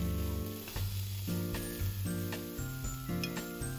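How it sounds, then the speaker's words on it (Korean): Julienned carrots stir-frying with a little salt in a pan, a soft sizzle under a background music bed, with occasional light stirring taps. "당근이 이 정도 숨이 죽을 때까지만 볶아주시면 돼요."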